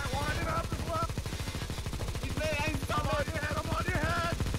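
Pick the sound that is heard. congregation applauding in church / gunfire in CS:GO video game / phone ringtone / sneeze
gunfire in CS:GO video game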